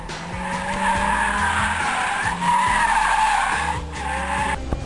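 Tires squeal in a long, continuous skid as a car drifts, engine roaring underneath, loud and close throughout.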